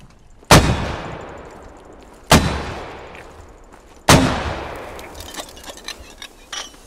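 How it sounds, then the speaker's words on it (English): Mortar barrage in the Squad video game: three heavy, booming explosions land a couple of seconds apart, each a sharp crack followed by a long, rumbling, echoing decay, with faint debris clinks after the last. "we're gonna hit them with the mortars"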